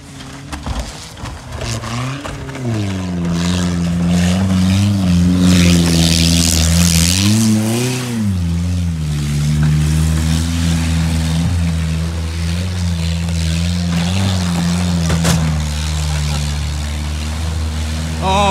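A loud engine revs and surges continuously as a stop vehicle approaches close by, pitch rising and falling through several throttle swells.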